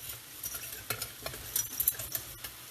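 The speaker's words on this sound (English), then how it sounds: "I'm just going to whisk that up, basically make a little bit" Eggs are whisked with a small ball whisk in a hot pan, producing soft, irregular scraping taps over a quiet sizzle, fairly faint and close.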